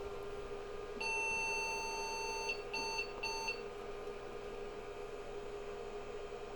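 An IBM 5150 computer beeps at startup: a steady tone holds for about a second and a half, then two short beeps follow, over a constant low hum.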